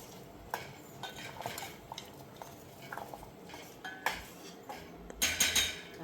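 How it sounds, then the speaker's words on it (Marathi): A lump of jaggery goes into boiling kadha in a pot, bringing faint metallic clinks and scraping stirs, with a sharper clatter of utensils near the end; quiet and close. "आता मी गुळ टाकते गुळाचा एवढा एक तुकडा टाकते"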